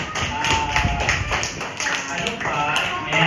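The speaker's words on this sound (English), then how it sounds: "Clap your hands for" A basic English class claps hands together, a loud burst of many overlapping claps from the students that runs steadily throughout with some voices mixed in.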